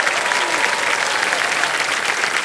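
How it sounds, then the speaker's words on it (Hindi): Studio audience on a Hindi game-show set (KBC) clapping for a junior contestant, a steady dense wash of applause throughout with no gaps. "इतनी सारी तालियां बज गई आपके लिए"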